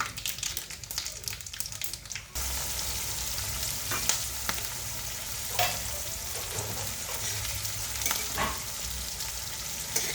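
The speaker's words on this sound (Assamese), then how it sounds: "তেলত মই পিঁয়াজ, তেজপাত, শুকান জলকীয়া, পাঁচফোৰণ দি দিলোঁ।" Onion, bay leaf, dried chili and panch phoron frying in oil for Assamese rajma: a steady close sizzle after a brief rustle, with occasional soft clinks of stirring.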